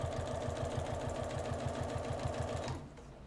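A sewing machine runs steadily, stitching fabric with a zipper and lining for a lingerie bag, a fast even mechanical chatter that stops just before the end.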